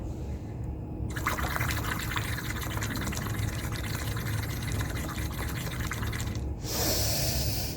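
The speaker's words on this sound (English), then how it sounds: "So you have to blow out completely by making bubbles." Air is blown through a straw into a glass of water during a breathing exercise, making a continuous bubbling gurgle that lasts about five seconds between quieter pauses.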